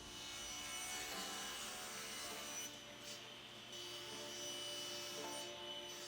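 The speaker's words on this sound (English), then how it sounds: "I'll go over to the bandsaw, slice off a piece of this" A bandsaw slices through air-dried walnut, giving a steady, close whirring rasp that holds for the full stretch with short dips partway through and no talking.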